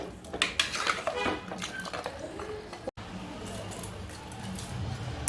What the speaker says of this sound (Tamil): நல்லா கிளறி விட்டுட்டு